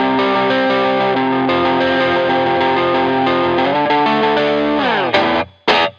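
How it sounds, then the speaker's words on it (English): A light crunch from an electric guitar through a Blues Driver pedal alone, strummed chords ringing steadily, then a sliding chord and a couple of short choppy stabs at the end, loud with no voices. "Now this is just the blues drive"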